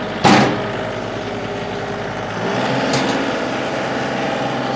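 A 2019 John Deere 2032R 32 hp compact tractor with four-wheel drive and hydrostatic transmission runs steadily nearby, its engine humming at a constant idle after a brief louder burst at the start, with no talking.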